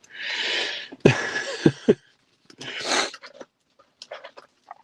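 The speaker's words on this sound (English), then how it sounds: "sneezing fit." Several sharp sneezes burst out close by, separated by brief pauses and breathy exhales, with no talking.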